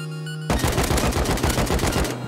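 Gunfire from the survival video game Rust comes as a loud, rapid burst of shots lasting about a second and a half, close and sharp, with no talking over it.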